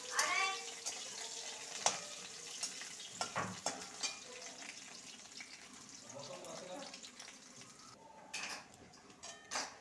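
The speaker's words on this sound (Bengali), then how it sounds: "পেঁয়াজটা একটু লাল করে ভেজে নিতে হয় লাল করে ভেজে নিলে ডাইলের সেন্টটা ভালো বেরোবে" Onions frying in oil for red lentil dal, a steady close sizzle broken by repeated scraping stirs and clinks of a spatula against the pan.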